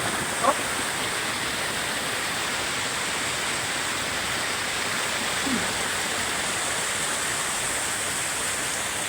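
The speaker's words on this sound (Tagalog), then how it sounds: "lakas ng agos ng tubig." A strong water current rushes steadily, a loud, unbroken hiss and roar of flowing stream that never lets up, with a faint brief voice sound near the start.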